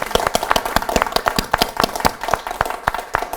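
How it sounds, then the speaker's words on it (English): A live audience at a community breakfast claps, with sharp individual hand claps sounding fairly close and fairly sparse, keeping up a steady, slightly uneven rhythm for a few seconds without any talk. "How about a round of applause for"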